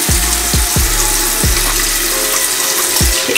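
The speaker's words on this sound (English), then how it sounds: "I just wet my face first." Tap water runs steadily into a sink while a face is wetted, with a continuous splashing hiss and several low thumps as water is scooped and splashed up close.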